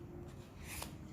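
Playing cards are peeled off one at a time in an overhand shuffle, a quiet, close run of soft papery flicks and riffles over about a second, with no one talking.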